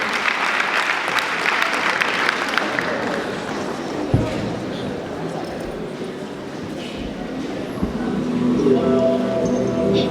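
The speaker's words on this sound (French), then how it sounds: "Mesdames, mesdemoiselles et messieurs, sous vos applaudissements." An audience at a student talent show applauds loudly to welcome a government minister, with sustained, dense clapping across the whole stretch and a few voices mixed into the crowd noise.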